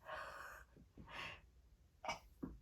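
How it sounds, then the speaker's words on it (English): A person sneezes close to the microphone, a sharp burst followed by a couple of quick gasping breaths and smaller sneezy exhalations, alone in a quiet room. "gotta sneeze again"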